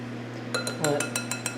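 A metal whisk clinks against a glass bowl while popover batter is mixed, a quick series of bright, close taps in an irregular rhythm over a low steady hum.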